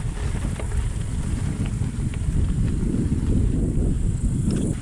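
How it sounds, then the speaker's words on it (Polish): Strong wind buffets the microphone in a constant low rumble, with steady gusty roaring throughout and nothing else distinct. "Wiatr straszny wieje."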